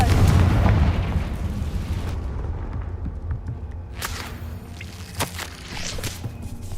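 A Confringo fire spell in Hogwarts Legacy bursts with a heavy, booming blast that rumbles and fades over a couple of seconds, followed by sharp crackling impacts and scattered thuds.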